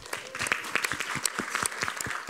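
Steady applause from a conference audience at a women in STEM summit panel, dense clapping with sharp individual claps standing out, continuous for the whole stretch.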